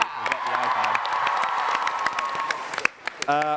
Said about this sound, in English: Big round of applause for Kim.